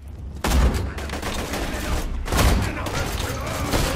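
Loud gunfire in the game Borderlands 2, two heavy revolver blasts with echoing tails over a dense background of game noise.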